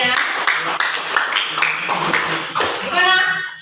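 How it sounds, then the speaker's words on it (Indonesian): A classroom group claps together in a steady burst of applause, dense and lively, with children's voices chattering underneath throughout. "Tepuk tangan untuk kita semuanya."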